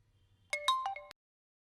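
A phone rings with an incoming call from an unknown number. A short, bright electronic ringtone plays a quick run of melodic tones, heard alone and cut off after about half a second.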